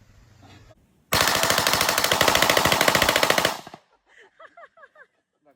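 Rapid burst of suppressed gunfire on a shooting range, a loud sustained string of sharp reports for about two and a half seconds, followed by quieter clinks and short speech-like sounds.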